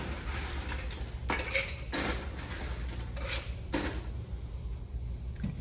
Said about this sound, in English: We are going to take a shaker and fill it with ice.